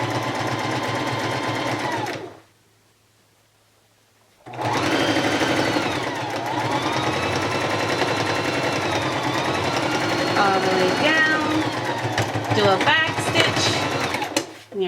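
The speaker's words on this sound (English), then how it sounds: "We're gonna back stitch and then do a straight stitch all the way down." A sewing machine runs a short back stitch, pauses in silence for about two seconds, then stitches a long straight seam down the fabric of a headwrap, steady and close, with some talking over it.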